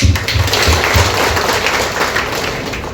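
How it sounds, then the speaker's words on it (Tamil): A large crowd applauds at a Tamil party members' meeting in a hotel in Sriperumbudur, loud and continuous clapping filling the whole stretch, with a faint low voice or hum near the start. "இந்த ஒரு ஞாயிற்றுக்கிழமையில கட்சிக்காக ஒரு 2 மணி நேரம் ஒதுக்கி எல்லாரும் இங்க வந்ததுக்கு ஒரு பெரிய கைத்தட்டல்"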